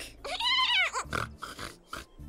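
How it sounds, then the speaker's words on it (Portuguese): A pig oinks and grunts close by in a rapid run of squealing, nasal calls, followed by a few shorter grunts. "Oink, oink, oink."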